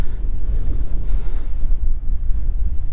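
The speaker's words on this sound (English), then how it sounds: "And it is really getting windy up here." Strong wind buffets the microphone in heavy, uneven low rumbles and gusts throughout, with no voices.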